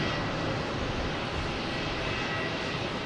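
A JetBlue airliner comes in to land at Boston Logan Airport, heard as a loud, steady, broadband engine roar that holds evenly throughout with no voices.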